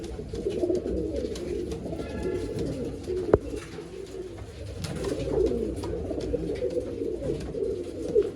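Old-line pigeons in Bangalore coo in soft repeated rolling calls, close by, with a sharp click partway through and faint background noise, no talking.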